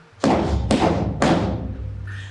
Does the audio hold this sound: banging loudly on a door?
yes